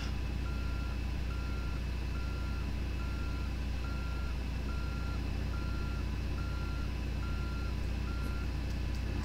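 Steady, evenly spaced reversing beeps from a truck backing a trailer into a parking spot in American Truck Simulator, repeating about every second over a constant low engine rumble, with no talking.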